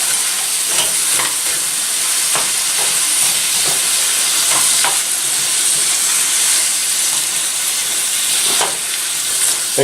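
Carrots and green, yellow and red peppers stir-fry in a hot pan, a loud, dense, continuous sizzle and hiss with occasional scraping stirs and small taps throughout.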